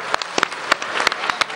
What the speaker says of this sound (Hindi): एक बार उसके लिए भी जोरदार तालियां हो जाए